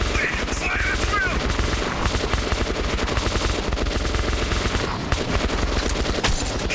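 Rapid automatic gunfire from many weapons in the video game Metro 2033 Redux, loud and continuous throughout with dense overlapping bursts; no clear speech over it.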